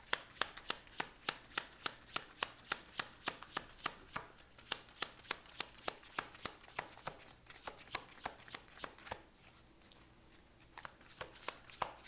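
A deck of tarot cards is shuffled steadily for a long stretch, giving a fast, regular run of crisp flicking slaps that loosens into softer, irregular rustling near the end, close and clear with no voices.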